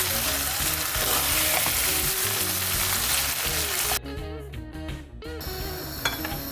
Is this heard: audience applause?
no